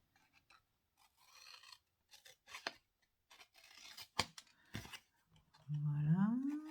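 Scissors snip at an angle through the cardboard base of a handmade pencil box, a few quiet scattered cuts and rustles, followed by a louder rising squeak or scrape near the end.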